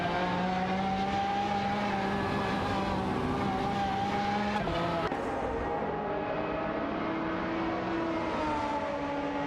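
Several race cars battle closely in an AI racing video game, steady whining engine tones rising and shifting in pitch, a brief sharp transient midway, continuous and fairly loud with no talking.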